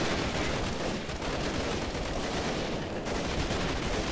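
Dense, continuous gunfire in the shooter game Freeman: Guerrilla Warfare, a loud rolling barrage of overlapping shots and bursts that never lets up.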